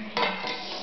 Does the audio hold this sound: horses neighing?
no